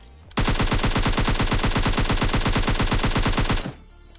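Rapid automatic gunfire in the PUBG Lite video game fires a sustained burst of evenly spaced shots for about three seconds, loud and close, then stops abruptly.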